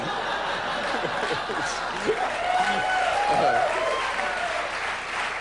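Studio audience applause at a late-night talk show, steady clapping with some chuckles mixed in, moderately loud and sustained throughout.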